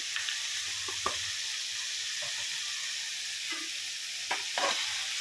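Ivy gourd fries in oil in a pan, a constant bright sizzle under a few soft scrapes of a stirring utensil, close and steady throughout.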